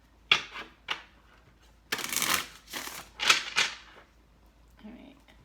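Tarot cards being shuffled by hand in several quick riffling bursts with short pauses between, close and fairly quiet, with faint soft sounds at the end.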